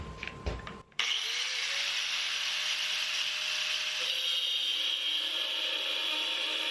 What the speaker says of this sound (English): I'm using the angle grinder with a cutoff disc to get 7 of these thread rods at 15 inches.